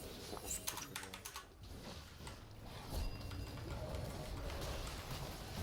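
Soft clicking of computer keyboard keys being pressed during a League of Legends game, a quick flurry of taps early on, then a faint steady background hum.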